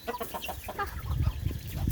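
Chickens at a rural Thai farm cluck in a quick, faint run of short calls, with a low rumble in the background.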